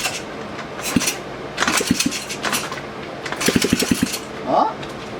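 A Honda CRF50 dirt bike engine sputters and fires briefly on starting spray, a few quick popping bursts separated by pauses, close by with no exhaust fitted.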